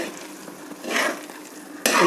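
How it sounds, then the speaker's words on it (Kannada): A thick sweet dessert mixture stirred in a pan, with two soft scraping, squelching strokes up close, the second one louder and sharper. "ಈ ಟೈಮಲ್ಲಿ ಕೈ ಬಿಡದೆ ಮಿಕ್ಸ್ ಮಾಡ್ತಾ ಇರಬೇಕು"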